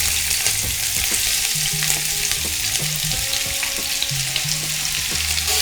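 Onions frying in oil in a pot for Trinidad-style corn soup, a loud continuous sizzle with rhythmic scraping and clinking of a spoon against the pot, close by with no talking.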